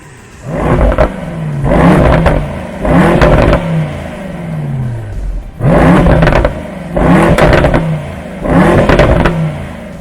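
A Mercedes-AMG E63 S sedan's V8 bi-turbo engine revs hard in six bursts, each climbing then dropping back to a rumbling idle, close and loud.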